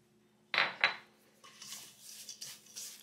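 A spoon scrapes and knocks against a pot with two sharp clanks, then softer stirring rubs as a homemade fresh-garlic seasoning with turmeric, pepper, cumin and coriander gets mixed, close and alone.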